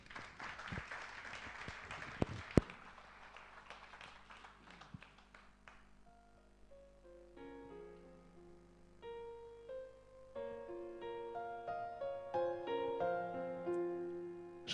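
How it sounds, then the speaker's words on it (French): At a live concert, an audience applauds for several seconds with scattered claps and a few sharp hits, fading as an instrument begins playing sustained melodic notes. "L'Antidote, sous vos applaudissements"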